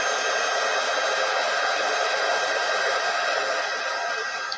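Heat gun blowing hot air over embossing powder on enamel, a loud steady whooshing roar that runs unbroken the whole time with no talking.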